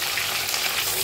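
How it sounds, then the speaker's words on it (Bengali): Potatoes frying in oil with salt and turmeric, a steady close sizzle and crackle with no talking, part of cooking a goat meat curry. "প্রথমে আমি আলুটা নুন আর হলুদ দিয়ে ভালো করে ভেজে নেব।"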